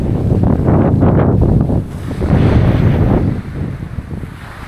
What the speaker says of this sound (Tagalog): Lakas ng hangin guys, promise.